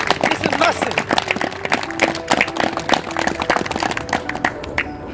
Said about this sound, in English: all of you deserve a huge, huge round of applause again